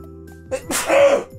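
A single sharp sneeze bursts out close and loud during an online game session, a brief intake followed by an explosive release with nothing else around it.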